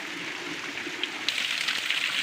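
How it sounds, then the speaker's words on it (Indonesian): Spray from the Parang Kikis waterfall in Tulungagung drifting down like drizzle, a steady hiss of fine droplets close by, with a slight rise in spatter partway through. "dari atas ada percikan-percikan air"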